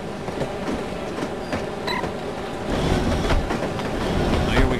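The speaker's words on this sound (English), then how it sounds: "I love riding the train." A train rolling along the rails in the video game No One Lives Forever, a steady close rumble with faint wheel clatter that grows slightly louder partway through.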